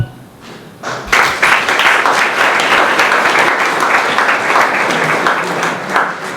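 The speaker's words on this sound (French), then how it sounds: "Je vous invite à applaudir ces futurs retraités." A hall audience applauds future retirees at a staff New Year's greetings ceremony in Baillif, the dense clapping starting after a second of quiet and holding steady and loud to the end.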